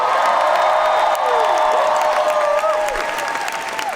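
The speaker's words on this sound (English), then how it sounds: "I think you guys can applaud a little louder than that." Loud crowd applause fills Comic-Con's Hall H, with cheers and whoops rising over the dense clapping before it eases slightly.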